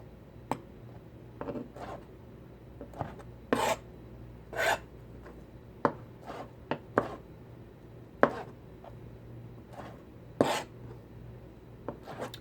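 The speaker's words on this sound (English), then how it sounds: "Cut it like you mean it." A knife slicing through a shrimp salad sandwich on a board, giving a dozen or so crisp, separate cutting strokes at an uneven pace, close and fairly quiet, with no voices.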